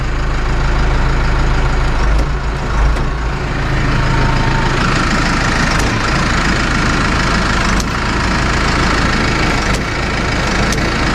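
A tractor engine runs steadily and loudly, working hydraulic fluid through a third-function circuit, with a constant low rumble and a few faint clicks, no talking.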